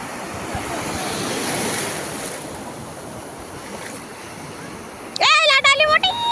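A big ocean wave surges and breaks on the shore at Ganpatipule beach, a broad rushing swell that fades, followed by someone speaking over the surf near the end.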